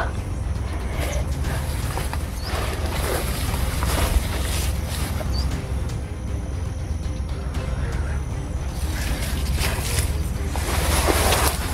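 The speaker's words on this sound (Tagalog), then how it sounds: "May naririnig akong mga motor." Motor engines approach under a steady, loud wash of wind and outdoor noise, their drone continuous throughout with no talk heard.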